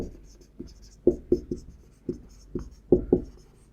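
A pen scratches and taps on paper as someone writes out the prime factorization of numbers in a maths lesson, making a series of short, close strokes in an uneven rhythm with no talking.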